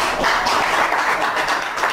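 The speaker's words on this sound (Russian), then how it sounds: "Чего вы хлопаете?" Dense, continuous applause from a group of people in the president's office, steady and fairly loud throughout with no pauses.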